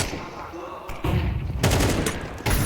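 Counter-Strike match gunfire in a major esports tournament game, a dense burst of rapid shots over about three seconds with sharp onsets, under faint commentary.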